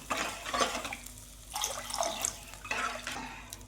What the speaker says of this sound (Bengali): এখন আমি জল দিয়ে দিলাম, এই জারটা দিয়ে জলটা দিয়ে দিলাম।